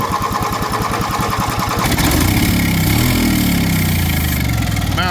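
Coleman Powerhouse generator engine cranking with rapid rhythmic pulses, then catching and running with a loud, steady mid-pitched roar close by, no talking.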